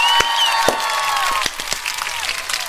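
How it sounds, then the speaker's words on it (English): A stock applause sound effect with scattered claps and light cheering, moderately loud at first and thinning out after a second and a half. "Let's give it a big round of applause"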